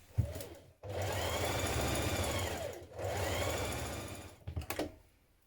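Sewing machine running along the centre back seam of a Vogue 9311 dress skirt, two long, steady stretches of close, rapid stitching separated by a brief stop, ending with a few short, choppy taps.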